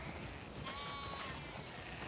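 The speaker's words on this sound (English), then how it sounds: "We definitely have way too many sheep." Sheep bleating on a farm, a single thin wavering bleat rising briefly over a steady background murmur, moderately close but not loud.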